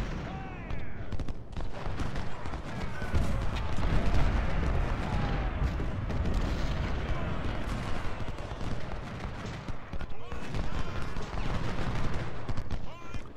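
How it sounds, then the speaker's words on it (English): Dense, continuous musket volleys and rumbling artillery fire roll through an Ultimate General Civil War battle, the crackling gunfire layered without pause over a heavy low boom for the whole stretch. "I've just redirected Hoffman to fire into Tuttle's brigade."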